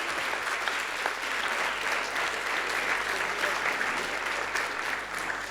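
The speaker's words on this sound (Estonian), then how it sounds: "Palun, üks suur võimas aplaus." A crowd in a cultural centre hall gives a big round of applause at a playback show competition, a continuous, even wash of clapping heard from a moderate distance.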